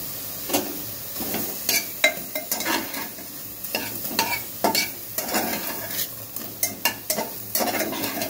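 Mustard paste being stirred in a pan with a zero-oil cooking method, spatula scraping in repeated rhythmic strokes over a soft sizzle, close and fairly loud with no talk.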